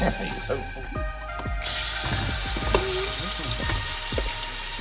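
Onions tipped into a hot pan for Rogan Josh, the sizzle rising abruptly and staying loud and continuous, with people talking over it the whole time.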